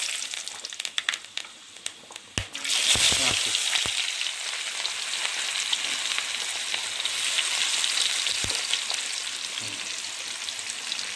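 Whole garam masala drops into hot oil already used for frying potatoes. A sharp sizzle flares up suddenly, then settles into a steady, close frying hiss with a few clinks.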